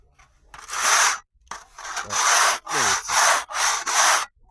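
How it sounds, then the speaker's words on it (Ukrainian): A tool scrapes ridges off an aerated concrete block facade wall in five loud, coarse rasping strokes with short gaps between them, close up and alone. "збиваю зубчики, бачите?"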